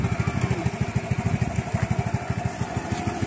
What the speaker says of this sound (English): Motorcycle lang kami papuntang Ujongan.